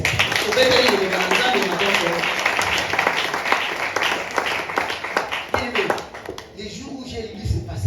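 Church congregation applauding after a Bible reading during a French-language sermon, a dense, steady wash of clapping that holds for several seconds before thinning, with some voices mixed in.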